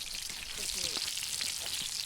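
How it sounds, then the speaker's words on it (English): Ground beef sizzles as it cooks over an indoor fireplace, giving a steady crackling hiss close by. Soft, faint voices and movement sounds come through underneath. "what's that sizzling?"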